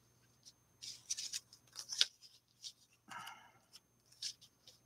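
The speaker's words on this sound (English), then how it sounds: "I want to cut the cute little zigzags on." Scissors snip zigzags into paper for a mixed-media paper doll in a string of short, quiet, close cuts with brief pauses between them.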